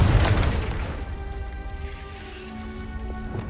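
A Confringo fire spell in Hogwarts Legacy bursts in a loud, deep boom that hits at once, then fades into a rumbling, crackling tail.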